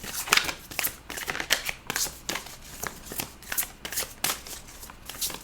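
Tarot cards being shuffled by hand during a Scorpio reading, a rapid run of crisp riffling flicks and soft slaps, fairly close and steady for several seconds with no talk.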